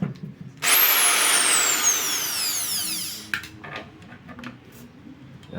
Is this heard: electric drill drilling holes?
yes